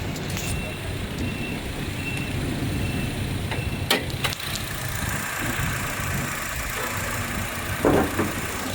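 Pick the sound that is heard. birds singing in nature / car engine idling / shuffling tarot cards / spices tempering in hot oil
car engine idling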